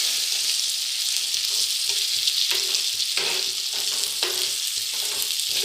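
Chopped tomatoes with rock salt and turmeric sauté in oil in a clay pot, making a constant close sizzle broken by repeated stirring scrapes and soft clunks, with no voices.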